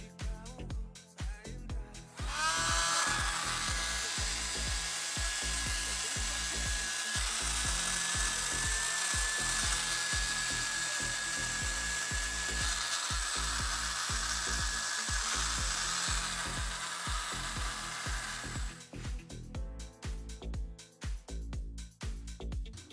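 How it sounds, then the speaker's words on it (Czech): A small USB-powered keyboard vacuum cleaner runs steadily for about sixteen seconds, a loud close whine with a high tonal pitch, starting and stopping abruptly with handling noise before and after. "A teď přijde ukázka, jak vysavač vysává a jaký hluk vydává."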